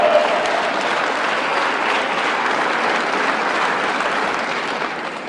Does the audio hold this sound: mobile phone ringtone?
no